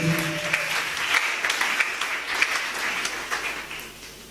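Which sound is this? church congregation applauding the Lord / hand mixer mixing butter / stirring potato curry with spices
church congregation applauding the Lord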